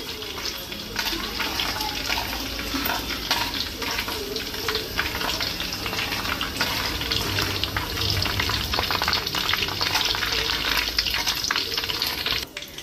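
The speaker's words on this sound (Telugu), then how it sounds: "లైట్గా వేగిందండి మెంతులు." Fenugreek seeds fry in oil in a clay vessel for an Andhra village-style fish curry, a steady close sizzle with stirring noises running continuously.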